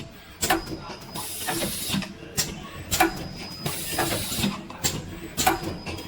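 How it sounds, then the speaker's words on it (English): A fully automatic three-colour cup screen printing machine with LED curing and automatic unloading runs steadily, its mechanical clunks and hissing strokes repeating about once a second over a constant machine hum. "After printing, it can put automatic curing this LED, and after curing, it will be put automatic unloading the cup."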